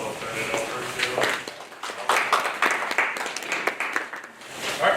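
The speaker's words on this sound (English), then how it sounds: "if you guys can help me welcome them with a warm round of applause" Applause welcoming speakers at a school athletic recruitment night, moderate scattered clapping from an audience that rises and falls over a few seconds, with some background noise.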